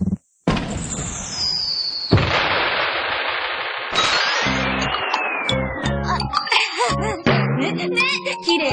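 Bursts of fireworks launching with whistling rises and sharp pops, several in quick succession, loud and close, with crackling between.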